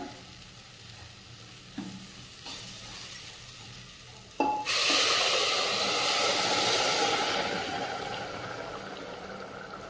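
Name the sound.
rice with pigeon peas boiling in water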